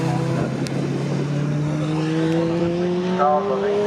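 Race cars sweep past at Snetterton circuit during a ClubSport Trophy race, engines droning loud and steady with a rising pitch as they come through, and a faint background voice.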